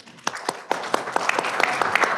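Audience applause at a town hall meeting, a steady mid-level patter of clapping hands with a few sharper individual claps, lasting a couple of seconds with no talk over it.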